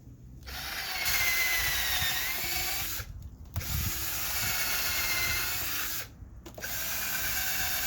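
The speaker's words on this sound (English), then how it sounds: "I'm going to go ahead and pre-drill." A power drill pre-drills wooden garden bed boards in three long, steady whirring runs, separated by brief pauses, heard up close.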